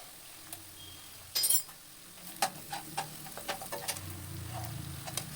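Ginger garlic paste frying in a pan of curry base after softened vegetables: a soft steady sizzle with a loud clatter near the start, then a series of light ticking taps and scrapes at a moderate distance.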